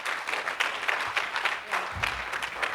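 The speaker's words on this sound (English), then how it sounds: "Let's give her a round of applause." Conference audience at a school of pharmacy research event clapping for a speaker, a steady spread of many hands with individual claps standing out in a loose rhythm, and a low thump near the end.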